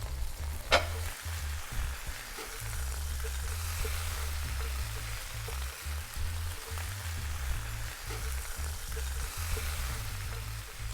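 Lamb chops sear in a hot pan for a pistachio and herb crusted dish, giving a loud, steady sizzle throughout with one sharp click near the start.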